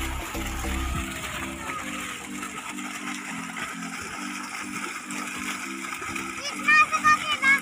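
Water gushes and splashes through an irrigation channel watering a field, a steady wet rush under frequent children's chatter, with a few sharper splashes near the end.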